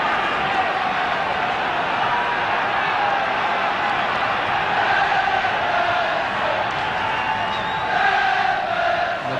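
A 1972 FA Cup fourth-round crowd at Goodison Park, Everton against Walsall, roars and cheers continuously, loud and dense throughout, with no clear talk over it.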